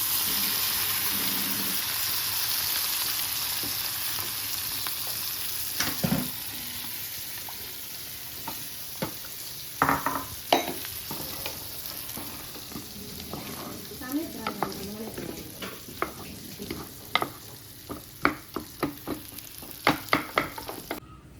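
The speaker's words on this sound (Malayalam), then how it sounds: "ഇതാ ബീഫ് പൊരിക്കാൻ പോവാണ്." Beef frying and being stirred in a pan at home, with a steady sizzle under repeated scraping and clattering stirs that grow busier toward the end.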